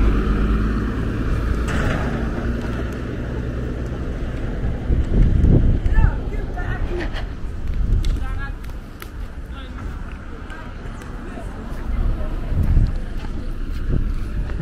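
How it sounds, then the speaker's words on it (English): Wind gusting along a comfortable residential street in East Legon, Accra, Ghana, a steady low rumble of microphone buffeting that swells in bursts, with faint passing traffic and a voice talking over it. "Very windy, and I like the wind."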